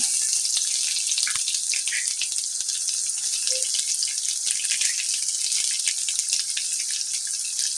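Chopped onion sautéing with cumin, curry leaves and garlic paste in a pan for besan pithla, giving a steady, loud, close sizzle with crackling pops throughout and no talking.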